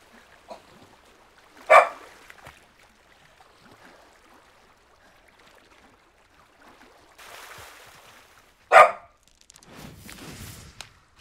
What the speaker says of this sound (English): You don't even know what you're barking at.